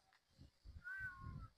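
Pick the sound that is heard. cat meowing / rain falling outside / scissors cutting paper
cat meowing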